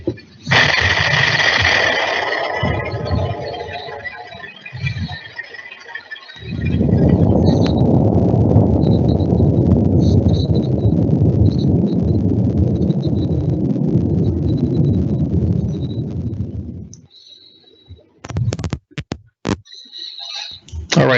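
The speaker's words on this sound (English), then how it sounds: "slow motion pop bottle rocket being launched" A homemade pop bottle rocket launches with a loud, sustained whooshing rush that runs for about ten seconds before cutting off, preceded by hissing and followed by scattered knocks and clatter.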